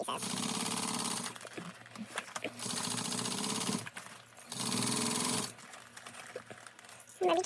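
A sewing machine stitches around applique pieces on a mini backpack in three distinct runs of rapid, buzzing stitching, separated by quiet pauses with handling noises.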